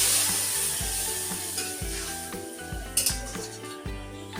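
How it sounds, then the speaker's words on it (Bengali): Water goes into a pan of crab and potato curry that has been frying in spices, and it sizzles loudly. Steady hissing runs throughout, broken by the rhythmic knocks of a spoon stirring. "এবার পরিমাণ মতো জল দিয়ে দেবো।"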